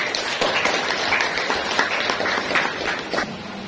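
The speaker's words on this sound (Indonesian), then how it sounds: "tepuk tangan untuk Sheryl." A classroom gives a student a short round of applause, with a steady patter of many hands clapping at moderate volume for a few seconds.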